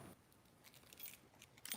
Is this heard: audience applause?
no